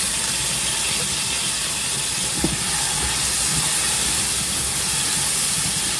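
Garlic sizzles loudly in a hot home-cooking pan, a steady broadband hiss and crackle held at close range for the whole stretch with no pauses.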